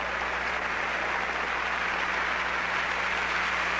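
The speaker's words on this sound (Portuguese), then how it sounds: "Vamos aplaudir o Senhor!" Steady congregational applause fills a church revival crusade service in Ohio, a dense, continuous wash of many hands clapping at an even level for several seconds, with no voices standing out.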